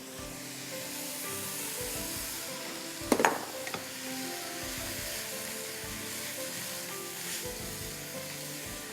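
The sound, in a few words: stir-frying cabbage in a pan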